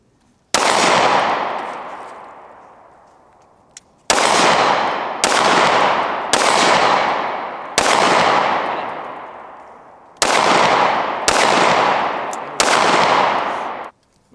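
Loud gunshots at an outdoor shooting range with tracer rounds, about eight sharp cracks in irregular bursts, each trailing off into a long ringing echo.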